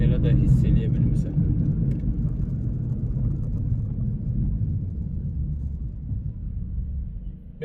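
Steady low rumble of a Honda Civic Si fitted with a KTuner V2 while driving, a continuous, moderately loud road and engine drone running beneath someone talking throughout.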